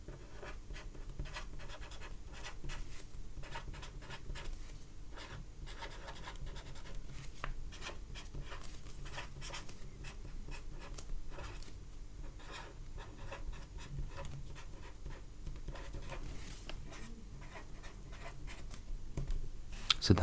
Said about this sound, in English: So let's write this down.